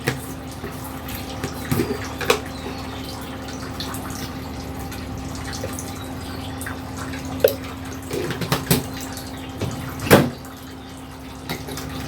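Water runs and splashes into a cooking pot of beef tripe and nihari, a steady close trickle broken by several brief louder splashes and clinks, with no talking.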